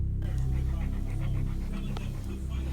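A dog pants quickly and steadily at close range, with a faint whimper or two, over a droning background hum.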